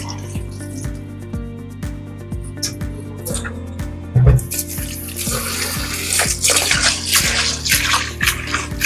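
Rice being washed a couple of times in water in a kitchen to rinse off starch: running tap water, splashes and drips, with a brief louder gush midway and busier sloshing toward the end, close by.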